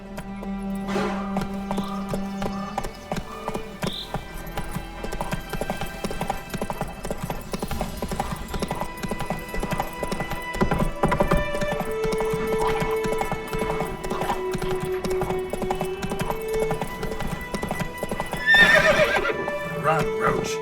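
Roach the horse in The Witcher 3 galloping with a continuous clip-clop of hooves and a neigh near the end, set in game music and ambience with voices speaking over it.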